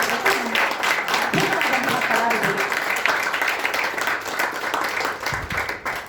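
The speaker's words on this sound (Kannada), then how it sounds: "ಜೋರಾದ ಚಪ್ಪಾಳೆ" Loud applause from an audience fills a stage performance of Bharatanatyam and Kathak dance, a dense steady clatter of many hands running throughout, with a voice briefly speaking over it near the start.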